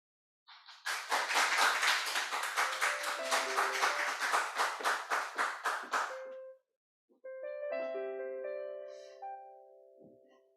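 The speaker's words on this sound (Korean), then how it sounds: "나올 때 큰 박수로 맞아주시기 바랍니다" A Korean Sunday church congregation claps in a steady, regular rhythm of about twenty loud, crisp claps, then breaks off as piano-like music tones take over.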